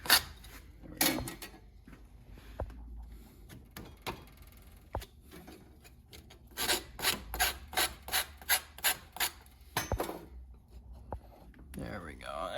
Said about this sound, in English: You're gonna need to sand a little bit off of that just to get it to taper in how it needs to.